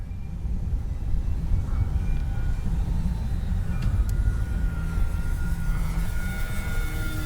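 A Durafly Rare Bear RC model plane makes a low pass along the runway, its electric motor a steady droning roar over wind noise, holding constant loudness with a faint rising whine partway through.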